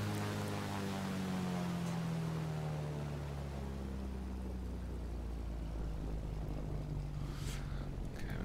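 A propeller aircraft taxis in Microsoft Flight Simulator with a constant engine drone and hum whose pitch slowly falls, steady and close throughout with no talk.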